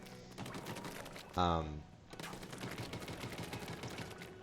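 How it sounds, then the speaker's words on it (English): A Splattershot firing in the Splatoon video game: continuous rapid, clicky shots run throughout with a short tonal jingle partway, while a voice talks over the action. "This is just a regular Splattershot, and it's like already creeping up on me."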